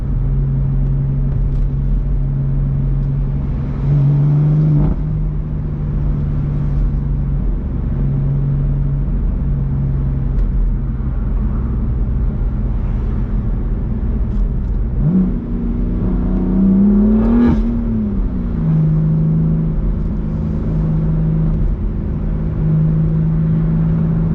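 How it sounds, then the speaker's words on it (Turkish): A car drives onto the autobahn in Switzerland, its engine a loud, steady interior drone with a couple of rising revs as it accelerates, continuous throughout with no talking. "İleriden otobana gireceğim ve geri döneceğim."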